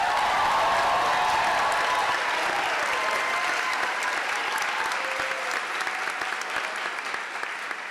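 A college convocation audience applauds scholarship and fellowship winners, loud sustained clapping from a large crowd that gradually thins and softens toward the end.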